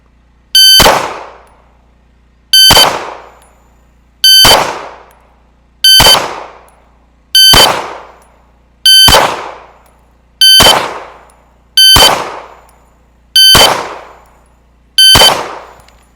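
Ten evenly spaced pistol shots ring out during a practical shooting drill, each a sharp loud crack followed by a short decaying ring, fired roughly every one and a half seconds.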